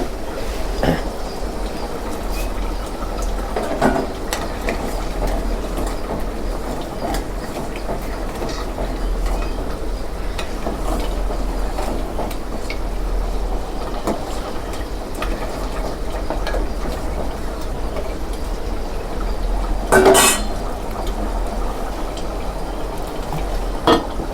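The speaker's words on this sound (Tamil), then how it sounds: "கரண்டி கொண்டு கிளறி விட்டுட்டு இருக்கேங்க." Crab curry thickening in a pot is stirred now and then with a ladle outdoors, sporadic metal scrapes and taps, one louder clank late on, over a constant low rumbling bed of noise.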